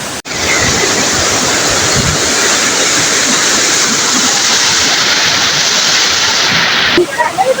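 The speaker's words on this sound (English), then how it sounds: "that one is the third waterfall" A waterfall near Maninjau roars as a loud, steady broadband rush of falling water, heard up close and continuous for several seconds before a brief shift near the end.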